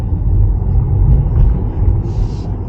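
Tesla electric car accelerating hard on a test drive, heard as a steady, loud low road and motor rumble from inside the cabin with faint whine above, no talking.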